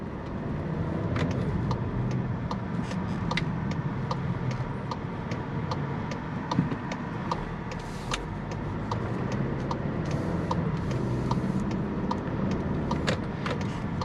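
A Volkswagen Tiguan SEL R-Line engine restarts smoothly under its auto start-stop system, blending into a steady low cabin rumble with a regular light ticking throughout and a brief broadband swell partway through.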